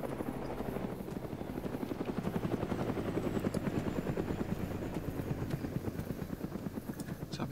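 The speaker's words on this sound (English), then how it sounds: "And there's helicopters still flying by." A video game helicopter's rotor thumps in a fast, steady rhythm with a low engine drone, fairly loud and swelling slightly as it passes.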